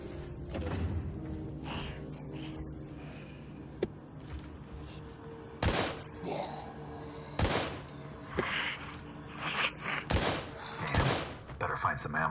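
Gunshots in the Crime Scene Cleaner video game: several sharp, loud cracks spaced irregularly over the second half, with thuds and handling noises between them and a person talking over the action.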